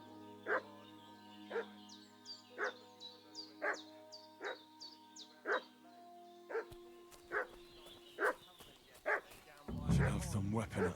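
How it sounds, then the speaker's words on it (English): A dog in the medieval game Kingdom Come Deliverance 2 barks repeatedly at a steady pace, about a dozen barks, with background game ambience and a louder rustling burst near the end. "What's that dog making such a fuss about?"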